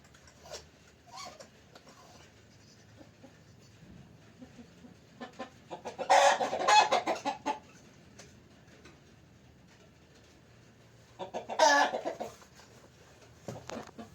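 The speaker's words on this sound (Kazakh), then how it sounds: "Тауықтарды қарай тұрыңыздар." Chickens at a small poultry farm cluck and squawk in two loud bursts, one around the middle and one near the end, with quieter scattered calls between and a low steady hum underneath.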